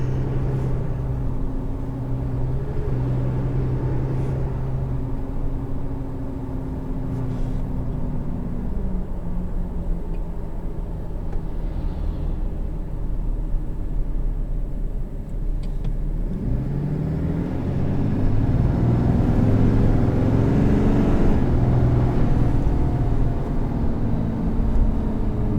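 A 2017 Ram 3500 Tradesman diesel truck drives with a steady low engine rumble and road noise from inside the cab, the drone swelling louder as it pulls harder partway through, with no talking.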